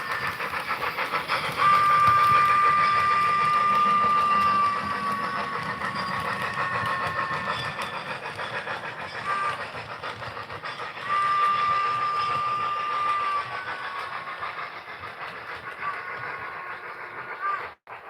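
A model train locomotive running with a Southern-style single chime whistle: steady rumble and hiss of the running train throughout, with two sustained whistle blasts, one early and a longer one later, and no talking.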